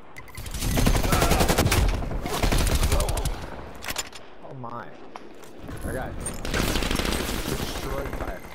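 Sustained enemy turret fire in Call of Duty Cold War rattles in long, loud, rapid bursts with a short lull in the middle, while a voice talks over the shooting.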